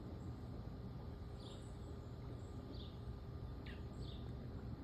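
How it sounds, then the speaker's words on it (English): A baby bird outdoors gives several short, high chirps spaced a second or so apart, faint and distant over a steady low background rumble. "Hear him chirping?"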